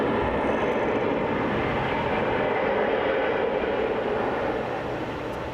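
Jet airliner roaring on landing rollout at Washington Dulles, a loud steady broadband rush of thrust reverser noise that holds for several seconds and eases slightly toward the end, with no talk.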